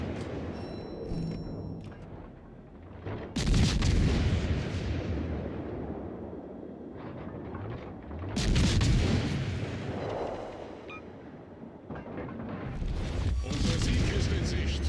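Naval ship guns fire in World of Warships Legends, heavy booming blasts that rise into long rumbling roars several times, with a player talking over parts of the action.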